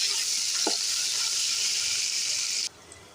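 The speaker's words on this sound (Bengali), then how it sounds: "এখানে আমি তেলের উপরে পেঁয়াজ আর কাঁচামরিচ দিয়েছি," Sliced onion and green chilies frying in hot oil in a pan: a loud, close, steady sizzle with a brief stir knock early on, cutting off abruptly near the end.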